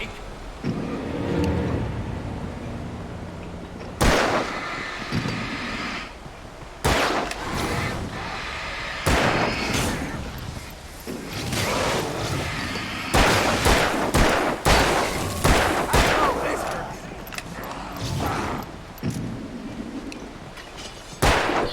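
Gunshots aimed at enemies in the game Alan Wake ring out as sharp, loud cracks in irregular clusters, some fired in quick runs and others spaced apart, over a low rumbling background.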